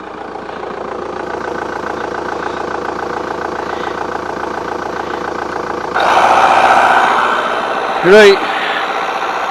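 A VW Golf GT TDI diesel engine with a faulty radiator idles steadily throughout, growing a little louder partway through, with a brief voice and short sounds over the running engine.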